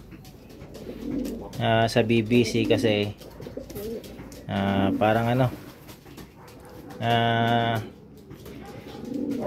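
Racing pigeons coo in several bursts close by, each a rippling run of soft throaty notes, with quiet pauses between; someone talks intermittently over them.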